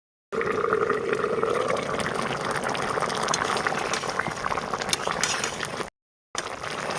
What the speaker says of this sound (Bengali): ঝোলটা ফুটে গেছে, এবার ঢাকনা দিয়ে ঢেকে ভালোভাবে সেদ্ধ করে নেব।